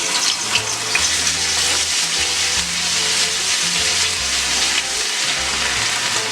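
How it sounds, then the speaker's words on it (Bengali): Garlic paste, cardamom pods and cloves fry in white oil with cinnamon for a Bengali egg biryani, giving a loud, steady, close sizzle with a low hum running underneath throughout. "এতে দিয়ে দিচ্ছি দুটো এলাচ, দুটো লবঙ্গ, দারচিনি, দিয়ে দিচ্ছি আমি রসুন বাটা,"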